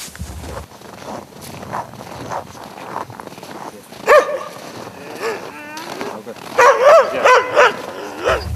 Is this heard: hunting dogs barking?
yes